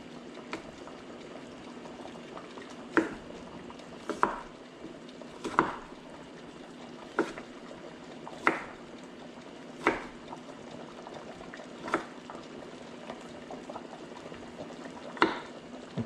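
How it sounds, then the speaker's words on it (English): Water simmers in a pot for Thai noodles, a soft steady bubbling hiss with occasional louder pops and clicks spaced every second or so. "We don't need to boil it all away."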